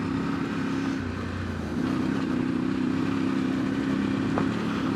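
A Voge Valico 800DSX Rally motorcycle is ridden off-road over loose stones, its engine droning steadily with a shift in pitch partway through, close and continuous.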